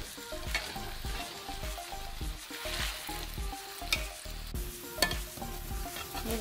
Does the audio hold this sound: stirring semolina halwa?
yes